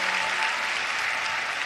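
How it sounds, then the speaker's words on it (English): Audience applause after a speaker asks the crowd to clap for a guest, dense steady clapping from many hands filling the room for the whole stretch, no voices over it. "Give Neha a big round of applause once again."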